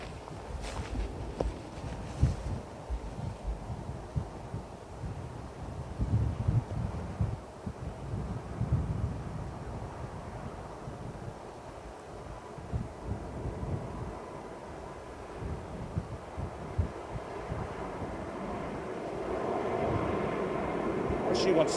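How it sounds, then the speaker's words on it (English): An ANA Boeing 777 winds up its jet engines for departure on runway 27R at London Heathrow, a distant low rumble slowly building amid wind buffeting on the microphone and people talking nearby. "ANA777, here we go, winding up."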